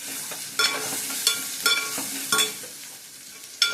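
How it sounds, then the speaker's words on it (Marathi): Chilli powder and sabzi masala stirred in a pan over a gas flame, with a soft background sizzle and repeated rhythmic scrapes of a spoon roughly every half second. "चांगलं मिक्स करूया."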